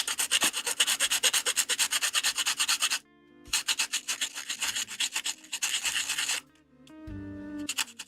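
A vintage 1/144 Bandai plastic Gundam kit part is being filed by hand, a close, dry rasping in quick back-and-forth strokes with two short pauses and a few small clicks.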